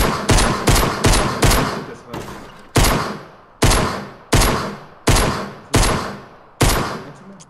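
Gunfire rattles at an ATK kart in Fortnite: a quick burst of close, sharp shots, then single loud bangs at roughly even intervals, each ringing out briefly.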